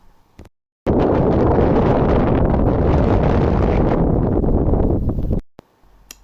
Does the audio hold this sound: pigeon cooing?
no